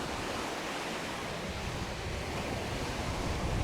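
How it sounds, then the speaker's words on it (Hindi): Waves on the shore at Point Pelee make a continuous, even roar of surf with no voices, close and constant throughout. "इतनी प्यारी आवाज़ आ रही है लहरों की, है ना?"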